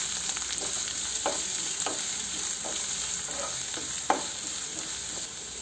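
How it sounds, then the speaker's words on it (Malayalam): Chopped onion and green chilli sizzle steadily in a hot pan while a spoon stirs them, leaving a constant bright frying hiss broken by several soft scraping strokes and one sharper clink, close up and with no talking. "ഇനി അതിലേക്ക് 1 സവാള കുനുകുനാന്നരിഞ്ഞതും 1 പച്ചമുളക് ചെറുതായി അരിഞ്ഞതും കൂടി ഇട്ട് കൊടുക്കാം. നല്ല രീതിയിൽ ഇളക്കി വേവിപ്പിക്കാം."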